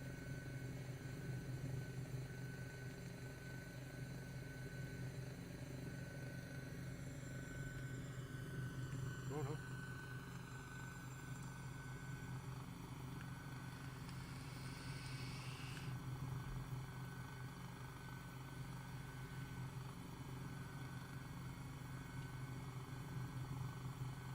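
A helicopter in Microsoft Flight Simulator flies over New Zealand, a steady droning rotor and engine whine that holds constant throughout, with a light tonal shift partway through.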